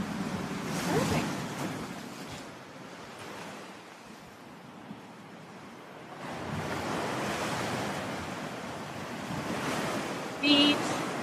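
Waves break and wash up a beach on Canouan in the Caribbean, surging loud at the start and again after the midpoint, with wind rumbling across the microphone between the swells and no talking.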